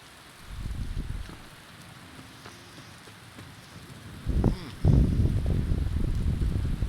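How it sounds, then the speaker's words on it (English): Medium rain in a video game falls as a soft, steady patter that swells to heavier bursts near the end, with no voices. "This is with the medium rain."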